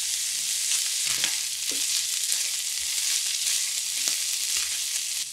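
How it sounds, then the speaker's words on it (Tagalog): Garlic frying in a little oil in a pan, a bright continuous close sizzle with occasional soft taps and stirring clicks. "Tapos, bawang naman ang ilalagay ko. Nagbuhos din ako ng konting mantika dito."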